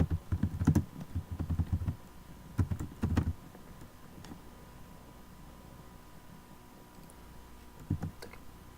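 Someone types on a computer keyboard in bursts of quick clicks near the start and again briefly at the end, with a quiet hum and no talking in between.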